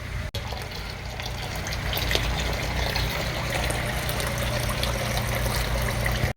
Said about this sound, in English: Let's drain the oil.